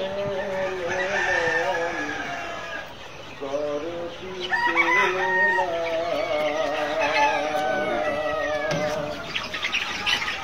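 Month-old layer hens in a large poultry shed, one of two flocks of about 3000 birds each, cluck and chatter continuously as a dense, close chorus, with occasional crowing-like calls rising above it.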